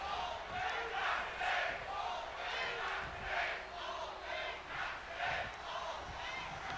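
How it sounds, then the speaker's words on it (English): A wrestling arena crowd in WWE 2K22 trades dueling chants, loud rhythmic waves of voices rising and falling in steady alternation. The crowd roars continuously underneath. "we got some dueling chants going from the crowd"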